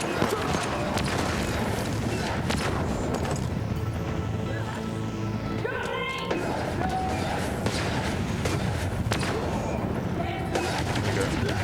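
Enemy gunfire in the shooter game Void Bastards, bursts of shots and booming impacts scattered through the scene under ongoing commentary from a player.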